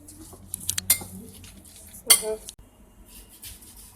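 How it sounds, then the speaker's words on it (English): Pork filling for steamed baozi is stirred in a bowl, giving a few bright clinks and scrapes of a utensil against the dish, brief clustered knocks then quieter mixing close up. "Mixing that meat mixture that's going to go inside of our steamed buns."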